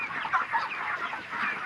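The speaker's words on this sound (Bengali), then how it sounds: "11টা মুরগিতে খাওয়া ধরছে" Broiler chickens at a poultry farm cluck and chatter continuously at close range as they feed, a busy overlapping flock sound with no talking.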